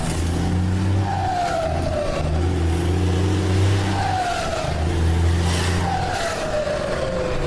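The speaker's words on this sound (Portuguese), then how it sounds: "Fazer cantar um caminhão que ninguém acha que canta" A Volvo FH truck without exhaust revs hard, its turbo singing in rising whistles that repeat in several waves over a steady, loud engine roar.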